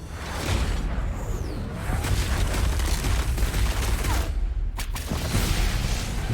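Rifle gunfire from a Mortal Kombat film plays as a dense, continuous barrage of shots and whooshing blasts, loud and steady throughout with no voices.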